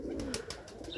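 Pigeons cooing in a loft holding over 400 birds, soft repeated throaty coos close by with faint rustling in the background.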